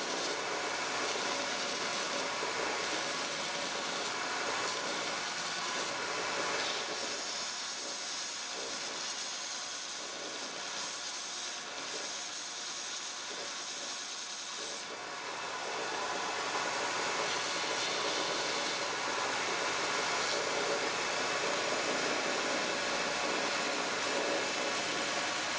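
Power sander working a turned wood spindle on a Jiffy sander conversion, a steady broadband whir with a hissing abrasive edge running continuously and loudly for the whole span, briefly dipping midway, with no talk.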